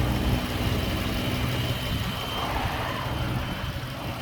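The 3.6 liter V6 of a 2019 Dodge Challenger SXT AWD Blacktop idles with the hood open, a smooth, even low rumble with a steady hum, heard up close and alone without any talk.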